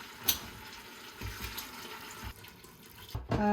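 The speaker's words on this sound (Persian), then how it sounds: "اینال 1 مقدار آب در بین دیگ مندازم" Water pours into a cooking pot holding browned cow feet during preparation of Afghan pacha palau, a soft splashing, running-water wash at low level, with a faint clink near the start and a louder clatter toward the end.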